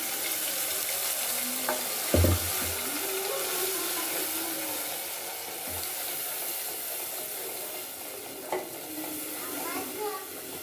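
Ground spinach and soybean paste sizzles steadily as it hits a hot pan of spiced mixture for palak soybean vermicelli, a constant close hiss broken by a few low knocks and clinks of stirring.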